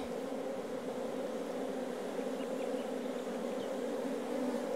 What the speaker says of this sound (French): Donc ça fait un beau tas d'abeilles à récupérer.